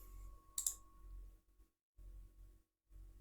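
A single sharp computer mouse click, very faint and near, standing out once over a quiet low hum with brief silent gaps.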